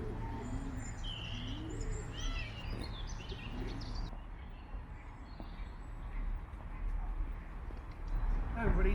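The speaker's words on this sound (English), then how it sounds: "as you can probably hear in the background, these amazing pigeons that are there" Pigeons coo and chirp in the grounds of Tonbridge Castle, soft repeated calls at moderate distance under outdoor ambience and someone talking over them.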